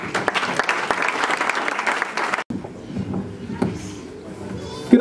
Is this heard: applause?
yes